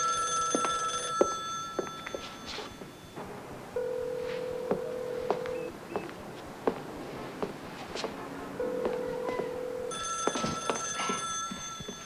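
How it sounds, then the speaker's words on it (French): An old-style telephone bell rings in a quiet room in a 1993 French film, sounding in separate bursts with a few soft clicks and small noises between them. "Le téléphone sonne depuis des heures."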